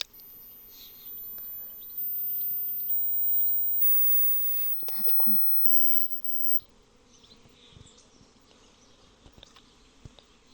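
A honeybee swarm buzzes in a busy, fluctuating drone, louder at first and then fading to scattered nearby buzzing with occasional bumps and rustles.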